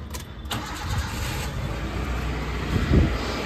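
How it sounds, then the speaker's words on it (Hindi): A customized ex-army Maruti Gypsy starts up and settles into a steady, close idle, its engine a low continuous rumble with a slight surge near the end. "ये हमारी जिप्सी है, जो हमने स्टार्ट कर दिया है।"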